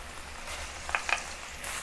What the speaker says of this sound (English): use the infused oil with the peppercorn flavor to fry the pork. Halfway through, add the garlic.